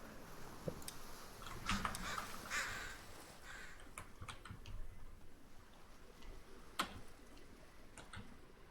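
A crow caws in the Aska video game after a crow potion is taken, a few faint, scratchy calls spread over several seconds amid soft ticking and clicking game sounds, heard alone without talk.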